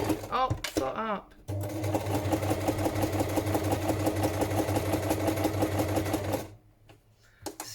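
A sewing machine stitches a line across a journal cover in a fast, steady mechanical run lasting several seconds, with brief speech and handling noises before it starts and after it stops.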